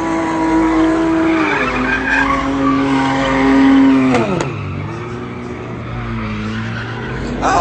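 Tires squeal loudly and continuously in a smoky car burnout as an engine revs hard, the pitch sliding down as the spin eases, then rising again; close and sustained.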